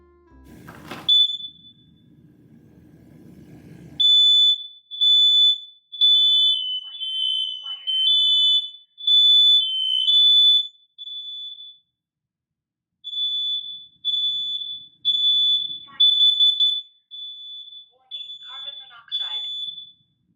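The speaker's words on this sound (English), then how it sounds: "finally we'll do the alarm test" A Leeo Night Light Smart Alarm Monitor sounds its alarm test: loud, piercing high-pitched beeps in repeated pulses with short gaps, preceded by a brief click and faint rustle.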